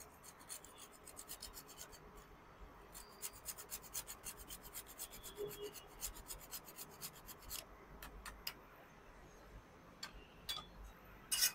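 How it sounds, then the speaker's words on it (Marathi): Nutmeg grated by hand in a kitchen over a sweet kheer-style dish with sugar and cardamom, a steady rhythmic rasping scrape repeated in quick strokes, close and clear with no talking, ending in a few louder scrapes. "थोडंसं जायफळ किसून घालणार आहोत"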